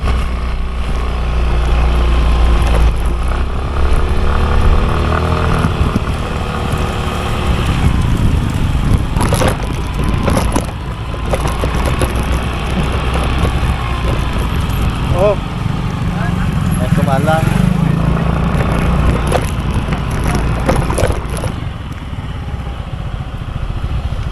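Yamaha Mio i 125 scooter on a road test after a steering ball race replacement, its engine droning steadily and loudly throughout with passing traffic, while a rider talks over the motor.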